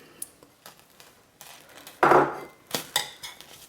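Organic shea butter is dumped into a pot of melting sunflower oil and stearic acid for hot process lavender soap, giving one short, close thud-and-scrape burst amid faint clinks and handling noises.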